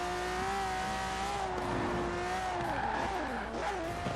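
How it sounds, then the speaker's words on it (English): A Ferrari 250LM classic racing car in Forza Horizon 4 revs with a high, tonal engine whine that rises and falls through gear changes, with tyre noise under it, loud and continuous with no talking. "Listen to that Ferrari engine."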